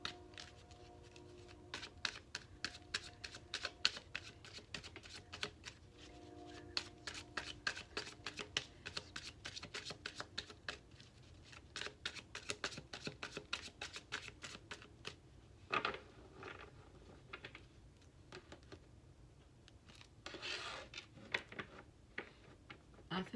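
Tarot cards are shuffled by hand in a quiet room, a rapid flutter of soft riffling slaps that comes in repeated bursts, close and faint, with no talking.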